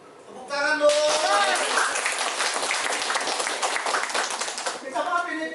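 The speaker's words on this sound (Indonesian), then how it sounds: "Tepuk tangan dong." A crowd at an Indonesian public gathering breaks into clapping, a sudden loud burst of dense applause lasting about four seconds before dying away, with a voice just before and after.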